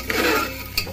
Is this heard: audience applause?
no